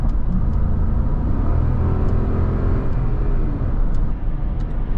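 A 2018 Toyota Land Cruiser engine hums steadily from inside the cabin, a smooth low rumble with road noise and a faint rise as it accelerates, fairly subdued.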